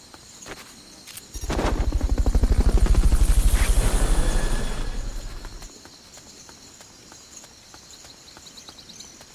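A Fulton recovery helicopter from the video game Metal Gear Solid Peace Walker swells in with a rapid, loud rotor chop, holds for a few seconds, then fades away, leaving faint ticking.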